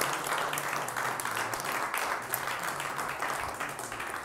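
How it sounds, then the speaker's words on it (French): A live French television studio audience applauds as guests leave the set, a steady, dense wash of clapping that holds at an even level throughout without pause. "On peut vous applaudir"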